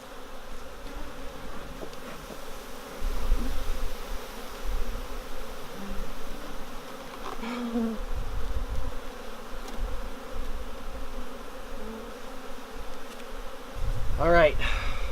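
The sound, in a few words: honeybees swarming around a queenless hive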